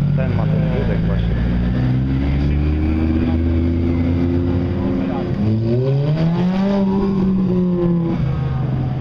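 A sports car's exhaust revs up and down in rising, falling sweeps at a car show in Poznań, loud and close, with a deep engine rumble throughout.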